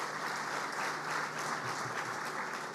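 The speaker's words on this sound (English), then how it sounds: "A round of applause to Derek, Matt, Peter Simon" A crowd claps in a dense, even wash of applause at steady volume at a groundbreaking ceremony for the new American Express Tower, neither building nor fading.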